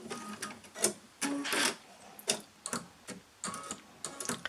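Sewing machine running in short bursts as it stitches side seams on a garment, the rapid needle clatter starting and stopping several times at close range.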